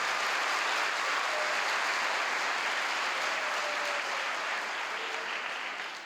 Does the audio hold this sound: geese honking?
no